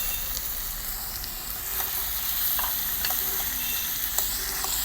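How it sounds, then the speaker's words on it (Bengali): Mutton going into hot oil with spices for a wedding-style Bengali mutton kosha cooked over a wood fire, with a steady close sizzle and occasional scraping stirs, no talk. "এবারে দিয়ে দেবো কিন্তু সেই আসল জিনিসটা, মাটন।"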